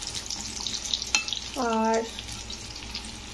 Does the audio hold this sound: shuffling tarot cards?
no